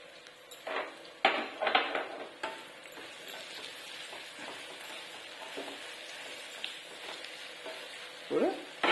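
Onions get stirred in a pan for a curry, with a quiet sizzle under scraping and clinking of a spoon against the pan, a few sharper knocks, and no talking.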